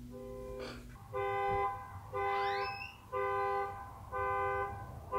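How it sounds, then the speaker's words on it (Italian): Car horns honk in several long, steady blasts on a street, four distinct toots spaced about a second apart with overlapping tones, loud and clear over low traffic rumble. "ci sono le macchine che si mettono a suonare il clacson."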